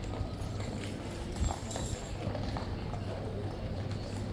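Horses of the King's Guard, Life Guards and Blues, shift and step restlessly during an inspection, hooves clopping faintly and irregularly on hard ground amid steady outdoor background noise.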